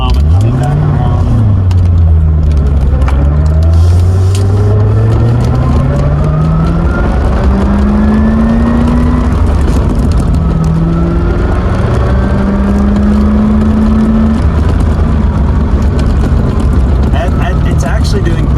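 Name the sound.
1989 Corvette engine running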